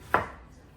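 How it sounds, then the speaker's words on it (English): A single crisp knife stroke slicing through half a red onion on a cutting board, one short, close chop followed by quiet kitchen ambience. "So I'm just gonna give some nice slices to it."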